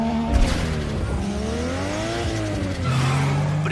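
A Peugeot 206 race car in Need for Speed Underground 2 launching off the line, its engine note sweeping up and dipping through the revs, loud and steady under tire noise.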